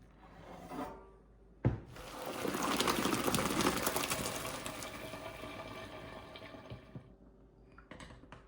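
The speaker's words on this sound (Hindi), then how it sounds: "उबले हुए चावलों को छानने में डाल के 10 मिनट रखना है, इनका पानी निकल जाए।" Boiled rice, parboiled for keema biryani, tipped into a strainer so its water drains off: a sudden splash, then a sustained rushing, trickling pour that slowly thins over several seconds, close and fairly loud, with no talk.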